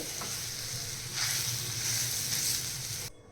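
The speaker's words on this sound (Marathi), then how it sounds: "ते पण मी या तुपामध्ये छान मस्त फ्राय करून घेणार आहे" Mashed boiled sweet potato frying in ghee with dry fruits, a steady close sizzle that swells about a second in and holds, with faint stirring scrapes, then cuts off near the end.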